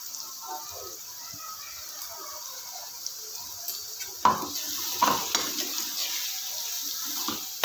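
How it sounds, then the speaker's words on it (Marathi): Ground fish curry masala stirred and fried in a pan, a low continuous sizzle with scattered spoon scrapes and a few sharper clinks in the second half. "मस्त त्याला हलवून घेत आहे आणि मस्त फ्राय करते मी आता मसाल्याला"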